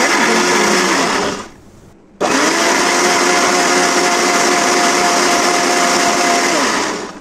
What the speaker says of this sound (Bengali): এখন আমি ব্লেন্ড করব এটাকে।